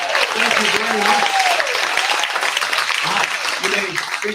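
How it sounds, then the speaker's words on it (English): Lively applause at a taiko showcase for the volunteers, continuous clapping throughout with a voice speaking over it and some cheers. "Get out another round of applause for our volunteers"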